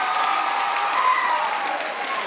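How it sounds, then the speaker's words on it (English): Applause from the audience at a hypnotist's stage show during an outdoor bike-a-thon event, an even, moderate patter of clapping sustained for a couple of seconds. "Let's give him a big round of applause."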